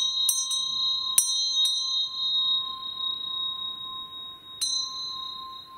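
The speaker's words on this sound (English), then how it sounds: "So we ring their bell." A ritual bell is struck four times with bright, ringing tones in an irregular rhythm, each strike leaving a long sustained hum that lingers between hits, close and clear with no talk.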